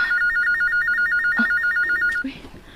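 An electronic phone ringtone trills in a rapid warbling pattern for about two seconds, then cuts off, leaving faint background noise.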